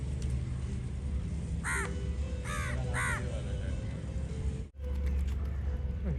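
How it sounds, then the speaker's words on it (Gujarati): Three harsh crow caws ring out in quick succession beside a swimming pool in Goa, fairly near, over a steady low background hum and rumble. "કાગડો સ્વિમિંગ પુલમાં નાઈ."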